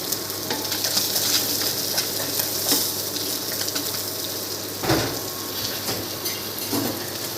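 Fish frying in hot oil in a pan, a dense continuous sizzle with occasional sharper crackles and a brief splattering burst midway, close and steady throughout.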